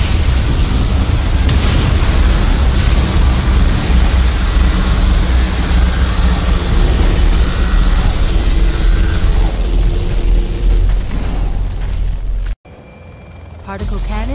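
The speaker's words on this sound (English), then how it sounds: "Particle cannon activated." Particle cannon firing in the video game C&C Generals Evolution, a sustained loud roaring blast with rumbling noise that runs for about twelve seconds, then cuts off abruptly before a quieter tail.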